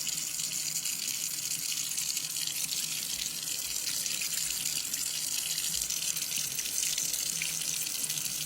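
Water from a kitchen tap runs steadily into a sink while tenderloin pork chops are rinsed. The splashing hiss is continuous and moderately quiet, and no voices are heard.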